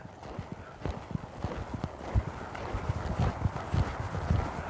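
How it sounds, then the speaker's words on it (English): Hoofbeats of a horse loping across an arena during lead-change exercises, a steady three-beat rhythm of dull thuds repeating close by, with no talk over them. "Don't let him lope the wrong lead."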